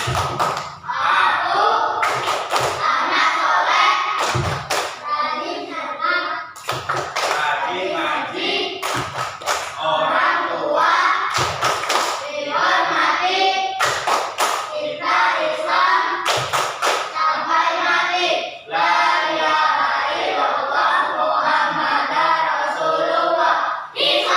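Schoolchildren perform the Tepuk Anak Soleh clapping chant in class, loud patterned handclaps in groups of beats while their voices chant along continuously, close and lively for over twenty seconds.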